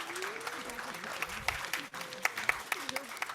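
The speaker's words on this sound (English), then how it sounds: "let's give one last final round of applause to Dr." Scattered applause from a small audience at an academic social work colloquium, light clapping under a speaking voice that carries through, fairly quiet and thin throughout.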